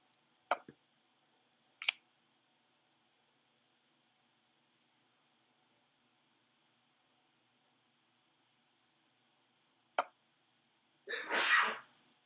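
One person sneezes once, a short sharp burst near the end, alone in a quiet room during an online poker session, after a few isolated clicks.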